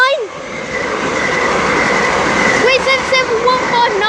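A Class 377 electric multiple unit passes through Amberley station, its steady rail rumble and wheel noise running throughout with some squealing near the end, while someone talks over it.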